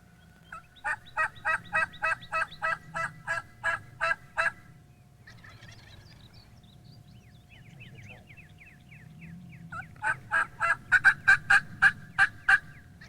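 Wild turkey gobbling in spring woods during a hunt, a loud near run of rapid rhythmic gobbles, a quieter gap with faint bird chatter, then another burst of gobbles, no talk.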